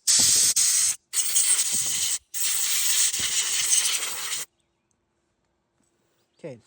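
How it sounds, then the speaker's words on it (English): Spray bursts aimed at a fitting on a Black Max 135 outboard motor during overheating repair work, three loud hissing blasts with short gaps, then silence and a faint clink at the end. "So I literally just spray right here."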